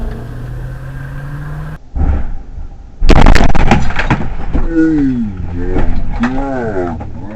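Car crash recorded from the dashcam of a 1997 80 Series FZJ80 Toyota Land Cruiser: steady road noise cuts out, then a loud sudden impact bursts in, followed by rattling and a voice exclaiming over the aftermath.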